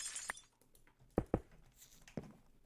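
A glass block breaking in the video game Minecraft: a few brief, sharp crashes and clinks, fairly quiet, spread across a short moment.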